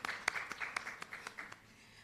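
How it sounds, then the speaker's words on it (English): A small audience at a Jamaican National Youth Advisory Council event gives faint, scattered applause, a handful of separate claps spaced out unevenly before fading away. "Round of applause for them, please."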